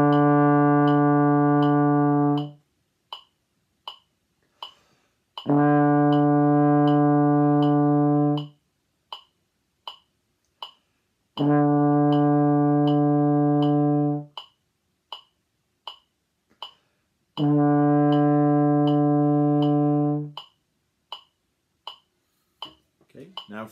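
Trombone sounding four long sustained notes, each held about three seconds with silent rests between, while a metronome ticks steadily throughout.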